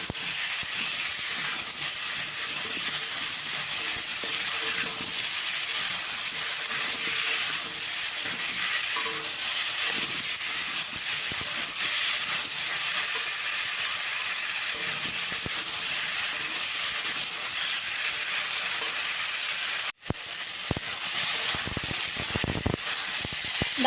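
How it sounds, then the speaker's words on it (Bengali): Raw pumpkin pieces with salt and turmeric frying in a pan, a loud, steady sizzle and hiss lasting throughout, with faint stirring scrapes and a brief break near the end. "ভালো করে নাড়াচাড়া করে মিষ্টি কুমড়ো একটু ভালো করে ভেজে নেবো"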